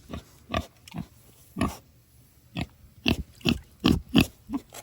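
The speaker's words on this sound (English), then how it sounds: "I wouldn't upset that pig." A pig grunting and squealing nearby in a series of short, loud bursts, sparse at first and then coming in a quicker run toward the end.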